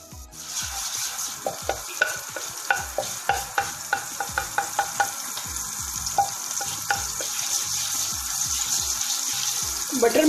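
Butter melting in a pan while rice is prepared, with a soft sizzle under repeated sharp clinks and scrapes of a spoon stirring against the pan, and running water audible in the background.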